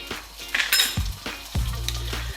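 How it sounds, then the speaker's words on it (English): Butter dropped into a hot pan for frying onions for a double cheeseburger, giving a close sizzle with clinks of pan and utensil and short bursts of hiss, no talk. "I've got my pan here, so I'm going to drop in a bit of butter there"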